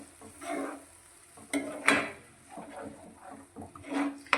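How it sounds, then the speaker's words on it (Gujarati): A spoon moves tomato puree through vegetable curry in a pan, making soft, wet, irregular scraping and squelching strokes in uneven bursts with brief pauses between them, close and fairly quiet. "એક મોટા ટામેટાની આ રીતે પ્યુરી તૈયાર કરી છે તેને આપણે અંદર લઈ લઈશું ને બધું સારી રીતે મિક્સ કરીશું"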